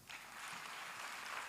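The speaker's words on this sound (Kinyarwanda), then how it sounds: "Mumukomera amashyi" A church congregation applauds their pastor, a dense, steady wash of many hands clapping that holds evenly loud for the whole short stretch.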